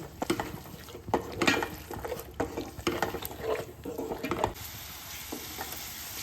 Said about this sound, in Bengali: এরপরে এই মশলাটাকেও খুব ভালোভাবে পেঁয়াজের সঙ্গে আমি লো ফ্লেমে কষিয়ে নেব